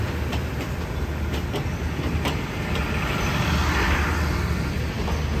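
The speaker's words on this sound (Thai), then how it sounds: "เนี่ยพวงรถนอนแดวูมาตอนหน้าด้วยนะครับสมศักดิ์ศรีรถด่วนพิเศษสักทีนะครับขบวน38ครับ" Southern Thai express night train number 38 hauling Daewoo sleeper cars rumbles past steadily, with rhythmic clickety-clack of wheels over rail joints and a constant low roar, moderately loud and without voices.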